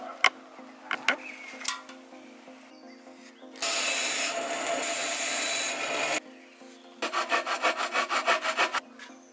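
Sawing small wooden legs for a potato cannon stand: a steady rasping saw stroke lasting a few seconds, a pause, then a run of quick rhythmic back-and-forth strokes, close and fairly quiet after a few light knocks.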